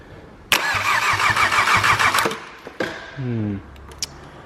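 A Golf GTI engine cranked from a jump battery with its spark plugs still in, a loud, rapid chattering crank for about two seconds that stops, followed by a brief whirring spin and a short clack.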